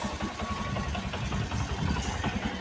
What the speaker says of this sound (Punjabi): ਪਾਪਾ ਜੀ ਨੇ ਮੋਟਰਸਾਈਕਲ ਬਾਹਰ ਕੱਢ ਲਿਆ ਆ